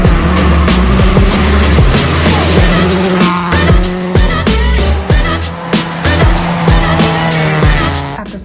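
A Subaru WRX rally car races hard nearby at a forest rally, its loud revving engine climbing and dropping through gear changes while tires squeal and skid across the whole stretch.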